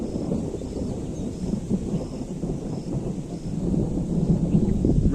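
Low, continuous rumble of distant thunder rolling over open hill country as rain and wind come in, steady throughout with a slight swell toward the end and no voices.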